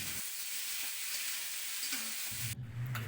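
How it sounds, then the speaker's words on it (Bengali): Soaked soybean chunks frying in oil give off a steady, fairly quiet sizzle that flares louder near the end as more of them hit the pan, with no speech. "এবার আমি এই তেলের মধ্যে দিয়ে দিচ্ছি সয়াবিন।"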